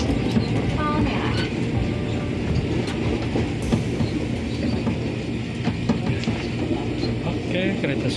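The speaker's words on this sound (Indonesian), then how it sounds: "Oke, kereta sudah berhenti," A commuter train brakes to a stop at Palmerah station, with a loud, steady rumble of wheels on rails, scattered clacks and faint squeals, and voices murmuring inside the carriage.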